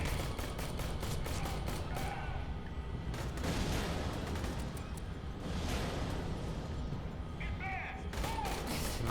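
Rapid gunfire in Aliens: Colonial Marines on PS3, bursts of crackling shots repeating through the stretch, with mechanical clanks and brief screeches mixed in, loud and continuous.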